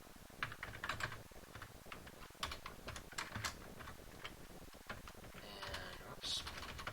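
Quick bursts of computer keyboard typing, uneven clusters of close key clicks with short pauses between, over a quiet room with faint voice in the background.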